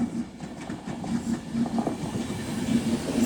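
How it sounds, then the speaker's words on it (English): An Avanti West Coast Class 390 Pendolino electric train from Manchester Piccadilly to London Euston arrives at Stockport station, a steady loud rumble with rhythmic wheel clatter and tonal motor hum rising slightly as it draws near. "So now coming in will be an Avanti West Coast Class 390 Pendolino running from Manchester Piccadilly to London Euston."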